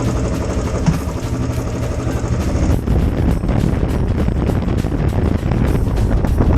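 A Royal Enfield motorcycle engine runs steadily and loudly throughout, its low rumble mixed with heavy wind buffeting on the microphone.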